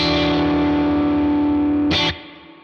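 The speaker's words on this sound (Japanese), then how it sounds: "ブリングリバーブみたいな感じですね。" Crunchy electric guitar tone through a Tone King Imperial MKII amp plugin rings out as a sustained chord, then a bright strum cuts off and the long reverb tail fades away alone.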